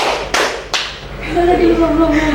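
An audience in a group clap game claps in unison twice, two sharp, close slaps about half a second apart, then a voice speaks.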